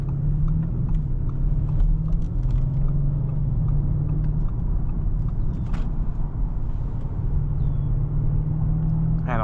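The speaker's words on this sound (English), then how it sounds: "I did think the exhaust would be louder." A steady, low engine rumble with exhaust note from a 2022 Audi RS 6 Avant, held fairly constant and loud from start to finish, no talking.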